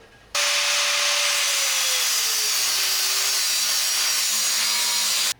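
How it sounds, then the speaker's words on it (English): An angle grinder cuts off rounded nuts on the rear brake rotor of a BMW S1000RR motorcycle, a loud continuous close-up whine that starts abruptly, lasts about five seconds with a slowly sagging pitch, then stops. "Grinder took about 5 minutes, would have taken probably an hour with wrenches."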